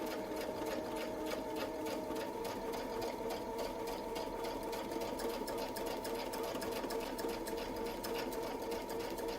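A sewing machine stitches an outer feather on a quilt, a steady fast mechanical whir with rapid needle ticks running continuously and alone, fairly quiet.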